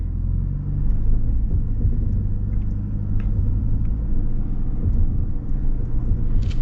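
A Toyota Land Cruiser 250 crawls off-road over rocks in rock mode with three tires spinning. It makes a steady low engine rumble with tire churn close by and no talk.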